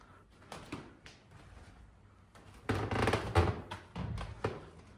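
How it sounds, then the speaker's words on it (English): Creaking wooden floorboards in the Tolson Museum, Huddersfield: faint creaks early on, then louder, drawn-out groans and thuds from about the middle onward, with no talking. "Creaky floor."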